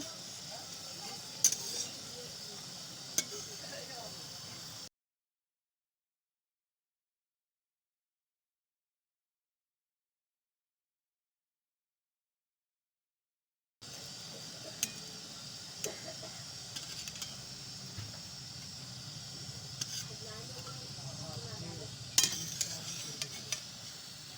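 Gram-flour-coated Malabar spinach fritters sizzle steadily in hot oil in a wok with occasional spoon clinks, broken by a long stretch of complete silence before the frying resumes.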